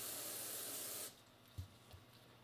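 A can of contact cleaner gives a strong, close hiss for about a second while spraying Kawasaki F5 stator wiring, then stops, leaving a couple of soft handling knocks.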